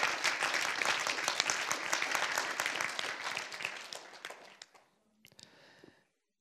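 A church audience applauds during a sermon, dense clapping filling the room for about four seconds before thinning out into a few scattered claps and quiet.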